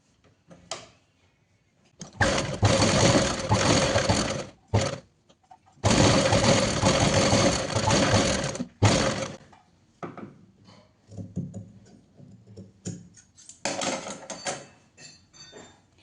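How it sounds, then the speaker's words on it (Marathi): A home sewing machine stitches fabric for a DIY potli bag in loud, close bursts of rapid whirring, several seconds each, separated by quieter pauses with fabric handling and light rustling. "इथून आपण अशी टिप मारून घेणार आहोत."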